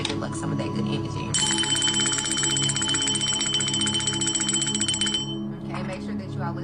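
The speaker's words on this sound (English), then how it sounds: "let's ring the bell to bring in some of that good luck" A single bell is rung during a livestream meant to bring in good luck, giving a bright sustained metallic ring that lasts several seconds over steady background hum and a continuous low musical bed.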